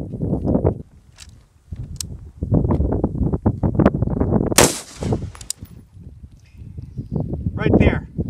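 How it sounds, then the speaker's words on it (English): A gunshot hits a stand-alone armor plate from 10 yards, heard as one sharp, loud crack amid outdoor wind noise and footsteps, with people talking around it. "I want to keep shooting this until it fails"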